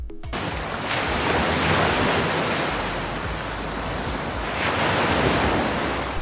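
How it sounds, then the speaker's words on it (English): Ocean waves roll in with a loud, broad roar of surf, swelling and easing over a few seconds with wind rushing across the microphone. "we still hear the ocean for a little while"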